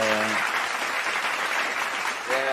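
Audience applause for Sandra at a live show, steady broadband clapping throughout, with brief voices or music tones at the start and end.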